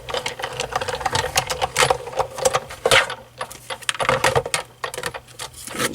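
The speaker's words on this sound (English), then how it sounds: "So I'm going to emboss that piece." Card stock being cranked through a die-cut embossing machine in an ornate floral 3D embossing folder, giving a dense run of close clicking and ratcheting rattles that continues for several seconds with no speech.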